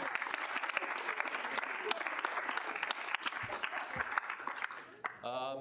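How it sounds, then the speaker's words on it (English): Applause at a student senate meeting, a room of people clapping steadily for about five seconds before it fades, with a brief voice rising at the very end. "Let's just give a round of applause to those guys too."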